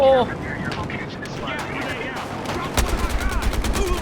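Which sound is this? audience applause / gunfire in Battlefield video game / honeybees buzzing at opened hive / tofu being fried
gunfire in Battlefield video game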